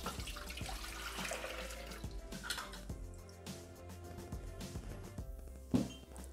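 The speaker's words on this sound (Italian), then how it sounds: "Mettere nel boccale l'acqua." Water pours into a Thermomix bowl during a salmon recipe, a continuous splashing stream with scattered clinks of utensils and a sharp knock near the end, close and moderate in level with no voices.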